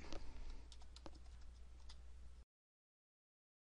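Computer keyboard keys tapped while renaming a new group on the Home ribbon, with a run of light clicks over a noisy background that cuts abruptly to silence near the end.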